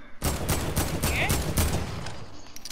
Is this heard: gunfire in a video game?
yes